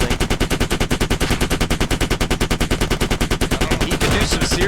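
Video game skirmish with a BTR armored vehicle firing on a building: rapid, steady automatic gunfire in an unbroken loud burst, close and dominant throughout.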